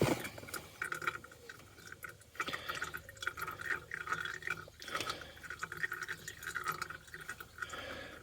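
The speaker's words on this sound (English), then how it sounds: "let that drain. I want to make sure I get as much of that old crappy oil out as possible" Old, black, lumpy engine oil draining from a Mazda MX-5 during an oil change: a faint, steady trickle with small dripping splashes, continuous throughout.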